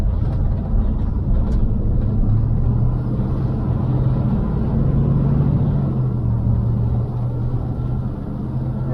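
A neglected Chevy C10 square-body pickup truck drives along with a steady, loud low engine rumble, holding a long stretch in second gear before the revs shift slightly, with no talking.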